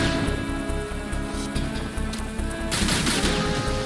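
Rapid automatic gunfire from the video game Metal Gear Solid 2 rattles in dense bursts over game music, growing into a heavier, brighter barrage near the end.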